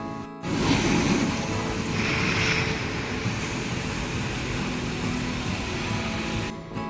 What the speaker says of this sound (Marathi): ते पाणी तिकडून आपटून असं पाणी वरती उडतंय